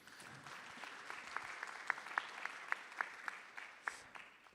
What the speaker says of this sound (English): vous pouvez à nouveau applaudir les panélistes